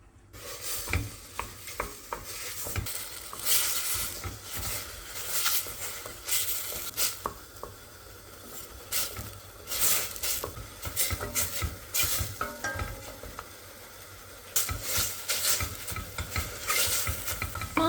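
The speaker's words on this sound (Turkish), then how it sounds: "Üzerine minik minik doğradığım 400 gram mantarı ilave edip kendi suyunu bırakıp çekine kadar kavuruyorum." A steady sizzle of chopped mushrooms sautéing in olive oil in a pan, with frequent stirring and scraping, continuing throughout without any talking.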